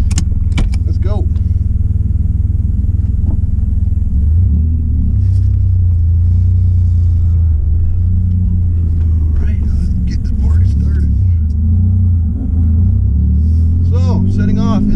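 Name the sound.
2002 Pontiac Firebird V6 manual car setting off and driving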